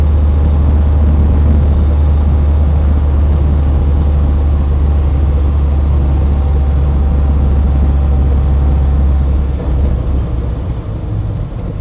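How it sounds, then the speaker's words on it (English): Land Rover 110 County Station Wagon engine running while driving, a steady low droning rumble with road and wind noise, relatively quiet and constant, fading slightly at the very end. "Station wagon, it's actually relatively quiet by Land Rover standards"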